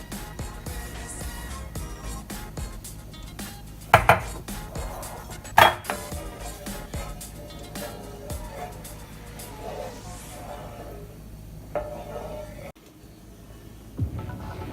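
Cream is poured into a saucepan for crème brûlée, with a run of kitchen handling around it: a couple of sharp metallic clanks of a pan and utensils over a steady background hum, close by and without talk.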